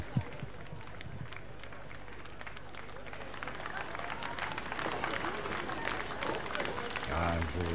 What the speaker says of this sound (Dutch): voor het gemeentehuis kregen de dames en heren natuurlijk veel applaus